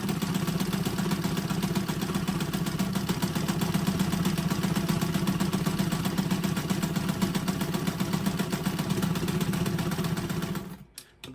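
Sewing machine running continuously, stitching a traced line along folded cloth to form a tight sleeve for a cap brim; a steady mechanical drone with fast stitching clatter, close and loud, stopping abruptly at the end.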